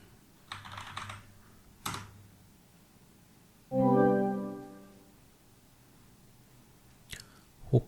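A password is typed on a computer keyboard in a few soft, scattered clusters of key clicks, with a brief droning tone in the middle and quiet pauses between.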